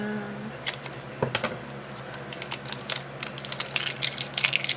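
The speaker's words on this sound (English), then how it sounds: "Let me cut this open." A package holding SheModern glue gel being cut open, with a series of quick, light snipping and crinkling clicks close by in a quiet room.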